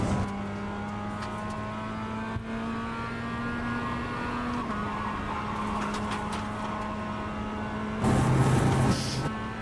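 An AMG Daytona race car in a racing video game drones steadily at high revs, its tonal engine harmonics holding through the run before swelling louder near the end.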